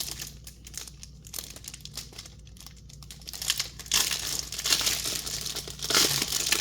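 Plastic wrapping crinkles and tears as a Digimon playmat is unwrapped, a close, busy crackling that starts sparse and turns dense and continuous for the last few seconds, with no talking.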